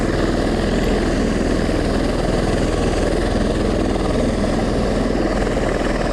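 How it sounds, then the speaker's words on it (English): Marine One, the presidential helicopter, idles loudly at Kelly Field in San Antonio as it prepares for takeoff, a steady close rotor and engine drone filling the whole stretch without a break. "And Marine One is moving, getting ready for takeoff."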